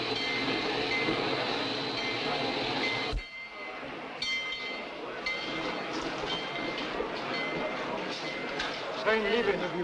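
Train noise in an old film scene, a steady loud rumble with whistle-like tones that cuts off abruptly and gives way to quieter clattering and voices talking over it.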